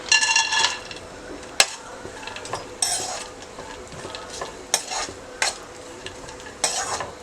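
Raisins, almonds, cashews and apricots fry in hot ghee for kheer, with bursts of metal spoon scraping and clinking against the pan over a soft sizzle.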